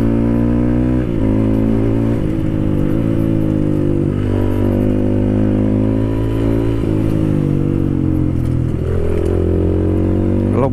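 A bored-up Honda CRF supermoto motorcycle on the road, its engine droning loud and steady throughout with a few brief shifts in pitch as the rider changes throttle.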